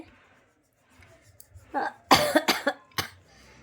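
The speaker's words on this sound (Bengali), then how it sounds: "কাশি যখন ওঠে গলা মানে খুসখুস খুসখুস করতে থাকে" A person with a cold coughs indoors: a few quiet throat sounds, then a cluster of three or four sharp, close coughs followed by one more a moment later.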